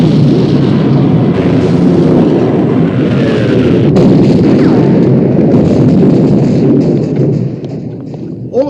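Heavy naval gunfire from the German battleship Bismarck in a film battle scene, a loud sustained rumbling barrage of booms and explosions rolling on continuously, easing slightly near the end.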